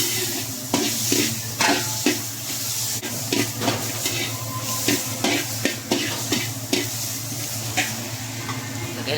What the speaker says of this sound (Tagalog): gisa ko muna para hindi siya malansa